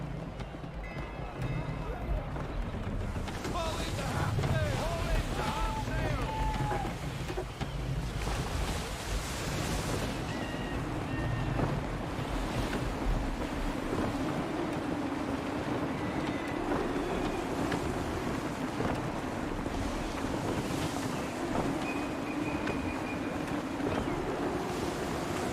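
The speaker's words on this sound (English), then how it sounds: "Gusty winds can be difficult to manage." Steady rushing wind and surging waves envelop a sailing ship in Assassin's Creed III, a continuous loud wash of water and gusts with a voice speaking over it.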